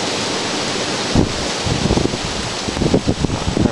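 Gusty outdoor wind buffeting the microphone near a ceiling-fan wind generator, a broad rushing hiss with irregular low thumps and bursts, no speech.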